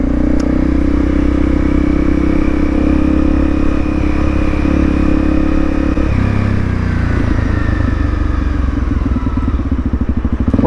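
A Honda CRF250 Rally motorcycle is ridden at a steady pace, its engine a loud, continuous drone that shifts pitch partway through as the rider changes speed, with wind and road rumble mixed in and no talking.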